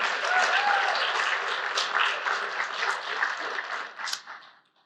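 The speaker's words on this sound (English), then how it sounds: "please give them a round of applause as well too" An audience at the 2024 Capitol Pathways Celebration bursts into applause, a dense, even wash of clapping that holds for several seconds and then fades out.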